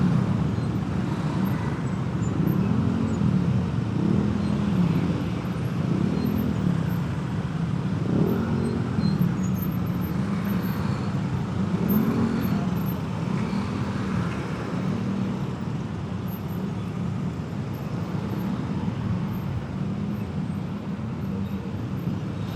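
Steady road traffic in a hot, stalled Jakarta jam, heard from a motorcycle: a continuous rumble of idling and creeping engines with a low, wavering motor drone that stays loud and close throughout.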